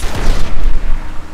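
Sniper rifle fire in the Max Payne 3 video game, heard as loud, dense booming gunfire with a low rumbling tail, continuous and busy throughout with no clear individual shot separation.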